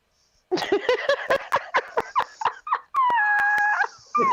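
Dog howling and yipping in a series of short, loud, close cries that end in a sustained wavering howl, with no speech over it.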